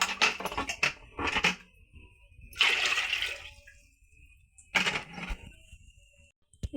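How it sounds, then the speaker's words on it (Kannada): Water splashes in several separate pours into a pot while sandige is being prepared, each gush loud and close, with short quiet gaps between them. "ನಾನೀಗ 8 ಚರಿಗೆ ನೀರು ಹಾಕೊತೀನಿ."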